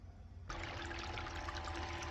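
Water rushes through a gold-prospecting sluice set up in a stream, starting quiet and then surging abruptly into a steady, full pour that continues to the end.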